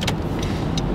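An Audi S3 engine rumbles in a loud, steady, broad roar that holds without a break, and no one talks over it.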